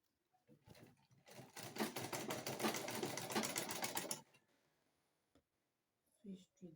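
A sewing machine stitches a straight seam on a kaftan dress, a rapid, close run of regular mechanical clicks lasting about three and a half seconds that then stops, followed by faint handling noises and a moment of quiet speech.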